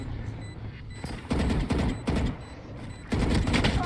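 Rapid gunfire in the game Valorant crackles in several volleys, loud and close, with sharp bursts that swell and fade over the few seconds.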